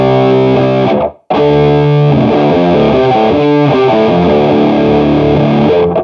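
A heavily distorted electric guitar in drop D plays a stoner rock riff of chugging low notes and shifting chords, loud and alone, with a brief gap near the start.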